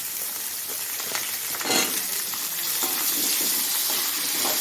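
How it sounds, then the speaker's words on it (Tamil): Ginger and onion sautéing in a hot pan for a pirandai chutney, with a loud continuous sizzle and hiss broken by the scrape of stirring. "அதுக்கப்புறம் இஞ்சி வெங்காயம் போட்டு நல்லா வதக்கணும்"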